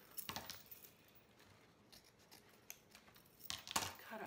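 Scissors snip pepperberry stems for a kitchen lantern centerpiece: two or three crisp cuts, one near the start and a cluster near the end, close but quiet, with faint rustling between.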